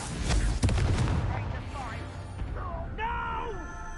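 A Confringo blast spell goes off in Hogwarts Legacy, heavy booming bursts at the start that fade into rumbling debris, followed by a thin, rising magical whine near the end.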